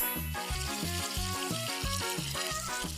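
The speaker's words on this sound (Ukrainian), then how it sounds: "Ома, я годна керувати водою." Water magic in a video game, a rushing, splashy whoosh layered over a rhythmic, tonal game music loop, fairly quiet throughout.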